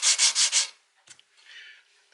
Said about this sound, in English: So just using typical sanding procedures